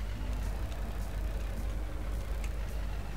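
Tractor engine running in the Ex Machina video game, a steady low rumbling drone that holds at an even level, with faint mechanical clatter and no talk over it.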